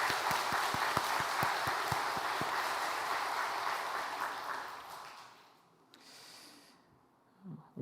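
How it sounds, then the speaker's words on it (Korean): A Sunday church congregation in Uijeongbu gives a burst of applause, many hands clapping with some sharp individual claps, holding strong for several seconds before tapering off into quiet. "우리 하나님께 영광의 박수 올려드릴까요?"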